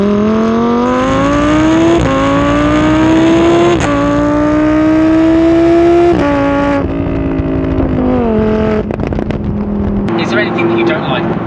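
A Lamborghini Huracan accelerates hard through first and second gear, its engine note climbing in loud rising sweeps broken by a quick shift dip, then rasping and crackling as it lifts off near the end, with a voice exclaiming over it.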